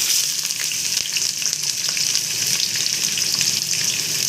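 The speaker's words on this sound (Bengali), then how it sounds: "এবারে পেঁয়াজটা আমি লাল লাল করে ভেজে নেব, তারপরে আমি মশলাটা দেব।" Onions fry in a pan with oil tempered with spices and dried red chillies, giving a loud, continuous, close sizzle with light stirring scrapes throughout.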